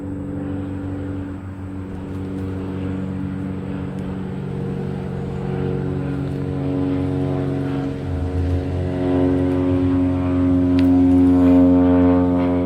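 A propeller-type airplane passing overhead outdoors, a steady droning hum with strong low tones that swells gradually as it nears, running continuously with no talk.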